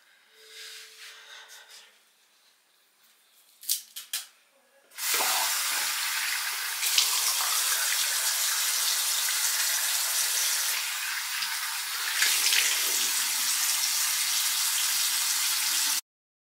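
A bathroom tap is turned on to wash off a face mask, with a few faint knocks and clicks before a steady, close hiss of running water pours for about eleven seconds.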